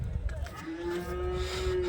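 A cow gives one long, steady moo at the Sunday Chintamani cow and calf market, rising clearly above the crowded background murmur of the livestock fair.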